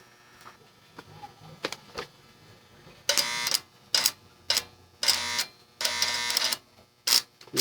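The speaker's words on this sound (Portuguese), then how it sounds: "Agora vamos embora fazer a solda com a máquina não retificada" A homemade arc welder built from a microwave transformer running unrectified at low current, giving short bursts of harsh crackling buzz that start and stop repeatedly, with faint clicks before the arc catches.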